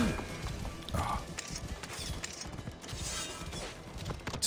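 Horse hooves clip-clop in Assassin's Creed Origins, a quick uneven run of soft thuds amid game noise and creaks.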